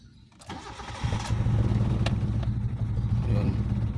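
A Mitsubishi GSR with hard starting and an unsteady idle cranks briefly, catches and settles into a rough, low, steady idle close by, with a few sharp clicks over the engine hum.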